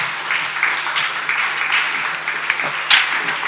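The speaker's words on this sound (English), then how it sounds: "I think I should make them stand and give us a clap." A seated audience at an event claps together, a continuous wash of applause at close range with a few sharper claps standing out.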